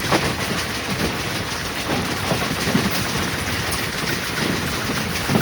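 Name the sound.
express train running at speed at night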